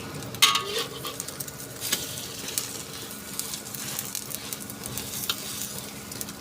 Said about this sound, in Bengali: ডিম ভাজা হয়ে গেছে, আমি এখন চুলাটা অফ করে দিব।